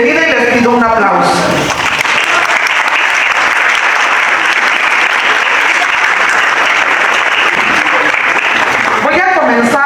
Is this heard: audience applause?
yes